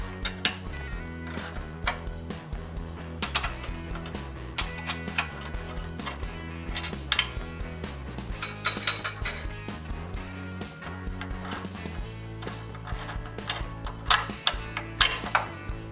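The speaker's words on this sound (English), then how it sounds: "remove the bolt on the bottom of the power link, which goes through the pivot arms, using a 7/16 wrench" A 7/16 wrench working the bolt loose from the bottom of a Tapco brake power link, where it runs through the pivot arms. Close, rapid metallic ratcheting clicks repeat in uneven bursts across the whole stretch, with no talk.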